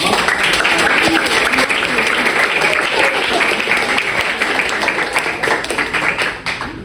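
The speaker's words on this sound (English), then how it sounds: "Round of applause for Ms. Bautista." A high school audience claps enthusiastically for a teacher at a debate event, dense close applause that holds strong and then tapers slightly toward the end, with no speech over it.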